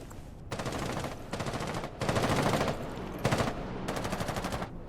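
Bursts of automatic gunfire in a competitive first-person video game match, four or five rapid rattling volleys separated by short pauses, loud and close with no talk.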